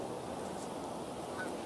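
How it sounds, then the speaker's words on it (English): A goose circles overhead, giving faint, distant honks over a steady wash of outdoor background noise. "There's another goose kind of circling here"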